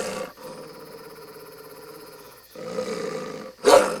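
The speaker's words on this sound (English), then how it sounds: "I said stop barking." A werewolf sound effect: a long, loud, close guttural growl that swells into a rough roar, then a sharp bark-like snarl at the end, no speech.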